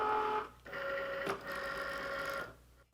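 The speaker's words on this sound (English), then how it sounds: "The first thing that Cricut's going to do is scoring the lines." A Cricut cutting machine scores lines into paper with a steady whirring motor hum, broken by a short pause and a brief sharper movement, all heard close and without talk.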